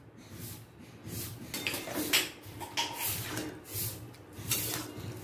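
Ghee and garam masala are stirred into a curry of fried split-pea dumplings in a pot, with repeated scraping and clinking strokes of a spoon against the metal, close and steady over several seconds, with no talk.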